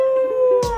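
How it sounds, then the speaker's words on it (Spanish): A toy dog from a surprise egg lets out a brief, steady electronic howl, loud and close, ending in a short noisy burst. "Oh, this one's howling."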